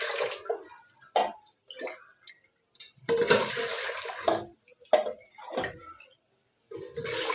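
Water poured into a cooking pan for rice, measured at about a 1:2 ratio, splashing in several short bursts separated by pauses, close and fairly loud.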